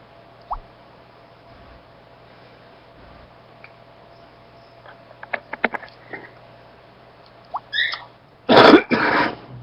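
Several harsh coughs from a person who has pneumonia, with a few small clicks and a throat-clearing sound first, then a loud burst of hacking coughs near the end, close to the listener over a quiet room hum.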